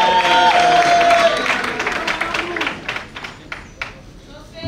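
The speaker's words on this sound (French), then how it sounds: "On peut l'applaudir puissamment, frères et sœurs." Church conference congregation applauds a speaker, a full sustained round of clapping from many people in a large hall that slowly tapers off into scattered claps, with voices mixed in early on.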